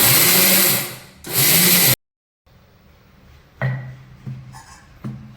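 A kitchen mixer grinder whirs loudly through two short bursts while grinding ingredients for fasting laddus, then cuts out. After a silent pause come quieter clatters and knocks, as if the jar is being handled.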